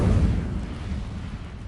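An Incendio fire spell in a Hogwarts game lands as a deep, roaring fiery whoosh, loudest at the start and then fading into a low rumbling burn.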